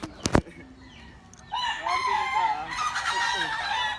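A sharp knock, a brief pause, then a chicken crows and clucks loudly up close for the remaining seconds.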